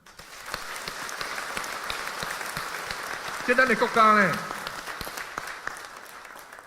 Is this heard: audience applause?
yes